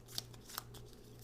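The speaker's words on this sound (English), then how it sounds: "Shuffle the stage 2 cards," A deck of board game cards being shuffled gives quiet papery riffles with two sharp little snaps, faint and close against a low background hum.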